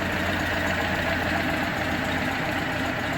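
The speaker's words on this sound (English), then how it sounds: "Look at that, it's idling on its own." A Citroen Acadiane engine, recently fixed for fuel leaks from perished pipes, idles by itself with a steady, close, even drone and no voices over it.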